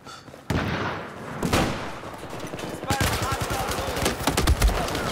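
P90 submachine gun fire in a Battlefield 4 match, rapid bursts of many shots crackling close and loud, layered with other gunfire in a chaotic fight, continuing densely through the end.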